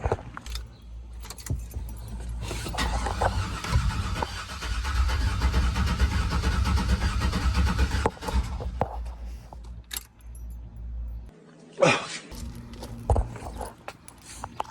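Keys jangle, then a Chevrolet Silverado truck's engine cranks and runs unevenly for several seconds before cutting out, followed by a brief rattle and another short burst, heard close inside the vehicle.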